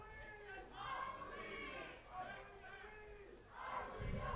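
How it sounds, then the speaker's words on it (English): A soccer crowd at a 5A high school state tournament game roars and chants in rising waves, loud and continuous, with a commentator-like voice faintly underneath. "PA fans really making some noise here at Central Dealership Stadium."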